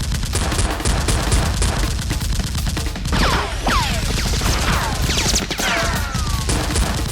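Toy Nerf blasters firing in a staged mock fight, a dense rapid volley of loud cracking shots followed by swooping whistle-like effects and more bursts, continuous and close.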